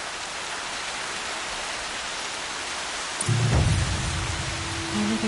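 Steady rain hisses loudly and evenly throughout a scene in Horizon Zero Dawn, a dense wash of falling drops, joined near the end by a low rumbling swell and a faint sustained tone.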